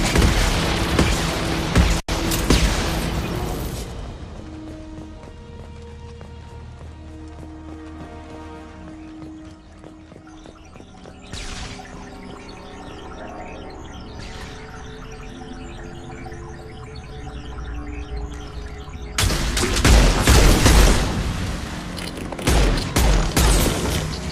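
Gunfire in a battle from the video game Mass Effect 2, with loud bursts of weapon fire and impacts at the start and again near the end, and a quieter stretch of low rumble and tonal game sound in between.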